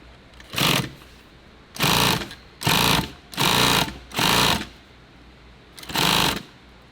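Sewing machine stitching a large water bottle pouch, running in six loud, even bursts of about a second each with short pauses between, the needle stopping down between runs.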